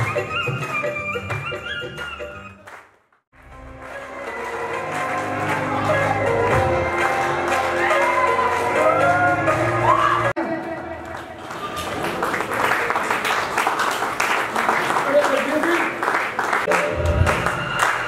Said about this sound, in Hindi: तालियां बजती रहनी चाहिए दोस्तों